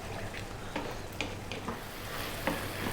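Beef curry sizzling over medium heat in a frying pan, with several soft scraping stirs breaking through a steady, quiet hiss, close up and without talk.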